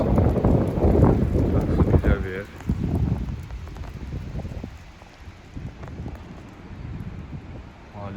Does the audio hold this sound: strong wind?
yes